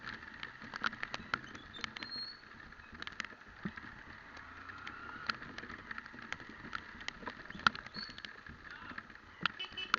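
Riding a motorcycle in the rain, with a steady hiss of rain and wind patter, scattered sharp drops and splashes, and a faint engine rumble underneath, continuous and close.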